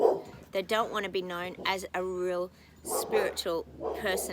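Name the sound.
dogs barking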